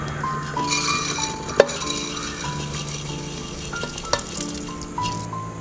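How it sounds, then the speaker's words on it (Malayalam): Moong dal lentils fry in a pan until light brown for a Kerala-style payasam, with a steady sizzle throughout and occasional clinks and scrapes of stirring. No one talks. "ഇതുപോലെ ചെറിയ ലൈറ്റ് ബ്രൗൺ ആയിട്ട് ഫ്രൈ ചെയ്തെടുത്താൽ മതി."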